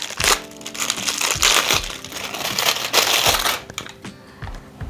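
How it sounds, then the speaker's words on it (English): Bicycle pedals for a Retrospec Beaumont REV e-bike being unwrapped, giving loud, close, continuous crinkling and crushing of plastic packaging in repeated bursts with no talking. "We will unwrap our pedals."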